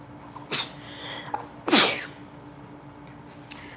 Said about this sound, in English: Try to sneeze, sorry.